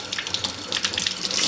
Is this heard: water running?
yes